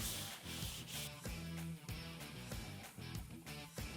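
Car body filler being sanded with 80 grit stick-it sandpaper on a block, a close, rhythmic rasping of repeated back-and-forth strokes.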